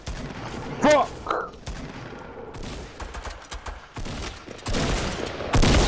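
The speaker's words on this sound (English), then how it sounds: "Stop shooting!" Bursts of Fortnite gunfire, with rapid shots and sharp blasts going off in clusters, mixed with in-game sounds and a player's shouting voice.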